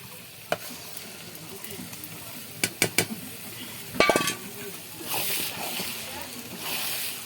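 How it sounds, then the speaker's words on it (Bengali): Fish belly pieces fry with onions in a pan, giving a steady sizzle broken by a few sharp clatters of stirring and a louder splattering burst, while a person talks over it. "এই যে হচ্ছে সাথে পেঁয়াজ দিয়ে মাছের পেটা ভাজা হচ্ছে"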